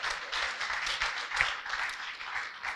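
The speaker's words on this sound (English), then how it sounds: "Please help me give him a round of applause again." An audience at a Lagos small-business bootcamp keeps up steady applause, a dense wash of clapping heard from a distance at moderate volume.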